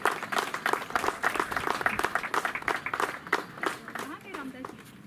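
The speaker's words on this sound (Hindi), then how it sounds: "तालियां रामदास जी के लिए भी बजनी चाहिए" An audience claps in dense, continuous applause at a community event held with CRPF personnel, close and lively, fading slightly toward the end while a voice speaks over it.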